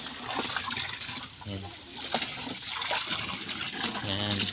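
Mountain water running from a hose or pipe into an old tub, a steady splashing trickle with a brief gush, close by while a person speaks a word.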